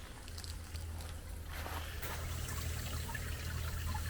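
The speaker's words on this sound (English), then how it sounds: "If you can hear, yeah, there's the sound. As you can see, there's water coming out." Water leaking out of a backyard hydroponic and aeroponic setup, a faint continuous trickle and splash with a low hum underneath, fairly quiet and steady throughout, with no speech.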